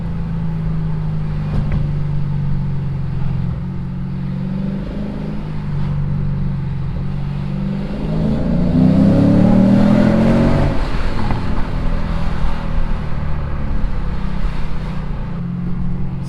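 A Lexus RC F fitted with an ARK exhaust, accelerating hard in second gear: a steady engine drone swells into a louder rising rev around the middle, then eases back, heard close from inside the car.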